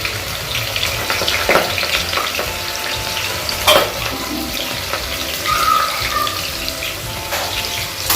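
Onion and curry leaves dropped into hot oil with cloves and cinnamon for a village-style country chicken curry, giving a loud, close, continuous sizzle with stirring clatter and a few sharp knocks of the spoon against the pan.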